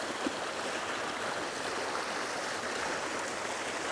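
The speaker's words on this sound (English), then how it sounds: "And the river sort of winding through with these beautiful cascades" A river winds over rocky cascades among ferns, giving a steady broadband rush of flowing water, close and constant with no voices.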